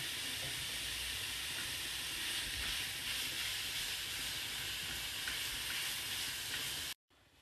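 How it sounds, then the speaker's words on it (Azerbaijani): Carrots and onions fry together in a hot pan with a steady, loud sizzle and crackle that continues without a break, then cuts off abruptly near the end; nobody speaks. "Köklə soğanı bir yerdə bir 2-3 dəqiqə qovururam."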